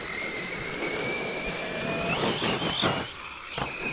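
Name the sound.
truck engine warming up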